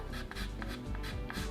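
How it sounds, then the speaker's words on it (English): A pastel pencil clicks and scrapes on photo paper while hand-coloring a black-and-white photograph. Close, soft clicks repeat roughly every third of a second over a steady scratchy rubbing. "Get to hear the clicking of the pencil."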